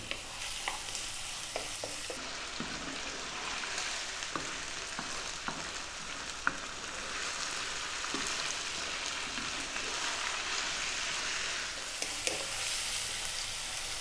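Chicken cubes sizzle steadily in a pan over just-above-medium heat for a chicken mushroom cream pasta, a continuous bright crackle with occasional scraping stirs, close and alone without talk.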